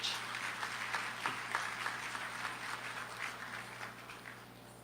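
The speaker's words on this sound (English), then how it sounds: "Let's give them a round of applause as they come on stage." Steady applause from an audience at the opening of the Agri Investment Forum and Expo 2023 as performers come on stage. It forms a dense, even wash of clapping with a few sharper claps, moderately quiet and somewhat distant.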